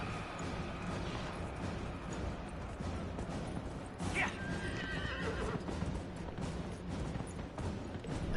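A horse whinnies in the video game Dragon Age over a steady, dense background of game ambience, with hooves clopping faintly beneath.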